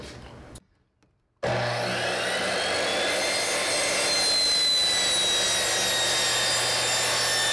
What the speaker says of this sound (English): I'm going to take this to the saw and we'll nip this off